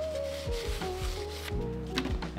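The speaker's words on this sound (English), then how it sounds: "You fold it on the seams and then open it." A paper Chemex coffee filter is folded along its seams and opened, giving close, soft papery rubs and crinkles in several short strokes.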